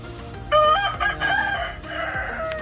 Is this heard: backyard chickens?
yes